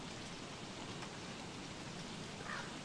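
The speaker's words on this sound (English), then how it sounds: "It won't stop raining frogs." Soft, steady rain hisses as a continuous wash of noise, faint and even throughout, in the video game Don't Starve.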